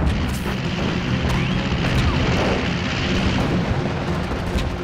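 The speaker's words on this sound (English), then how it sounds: "Japanese radar picks up the incoming attackers, and anti-aircraft fills the sky." Dense anti-aircraft fire filling the sky during the Battle of Okinawa in World War II, heard as a constant rumbling roar of booms and bursts that never lets up.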